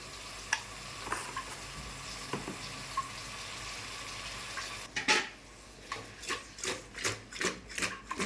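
Brinjal pieces seasoned with turmeric and salt fry in a pan with a soft, continuous sizzle, then are tossed in a run of regular, rhythmic scraping and clattering bursts near the end, with no voices.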